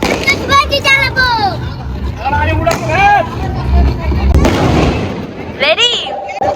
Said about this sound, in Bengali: আমি আজকে আতশবাজি চালাবো